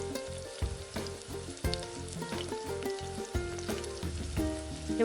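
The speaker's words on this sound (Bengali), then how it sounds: "দেখো বন্ধুরা, মশলাটা খুব সুন্দর কষানো হচ্ছে" Spice paste with cashew and poppy seed paste sautéing in a pan for a Bengali begun basanti, with a steady close sizzle and occasional stirring that runs throughout under a tonal backdrop.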